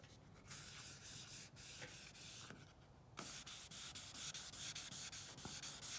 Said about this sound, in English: keep it wet and keep the sandpaper wet